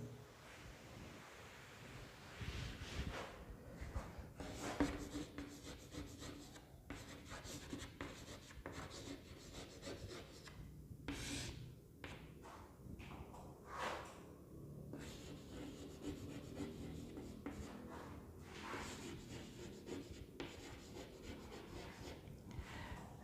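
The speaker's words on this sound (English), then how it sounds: "So I'll rub the board." A duster rubs chalk off a classroom board in long, steady scraping strokes, a continuous close rasp with brief pauses between passes.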